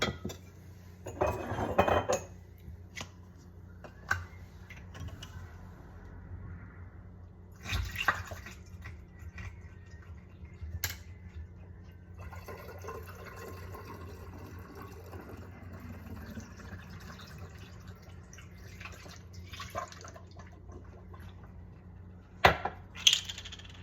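Homemade kombucha being bottled, with liquid pouring into bottles alongside scattered glassy clinks and knocks, a louder cluster near the start and sharp clinks toward the end, with no talking.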